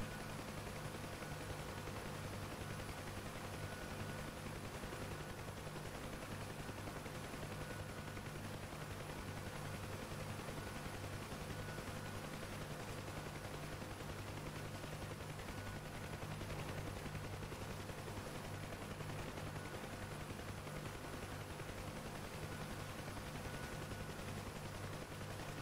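A Huey helicopter in the DCS flight simulator drones with a steady rotor and engine hum, loud and continuous throughout; no distinct gunfire bursts stand out.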